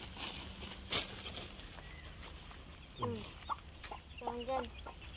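Chickens clucking nearby in short, irregular bursts over a faint background murmur, with a few louder squawks toward the end.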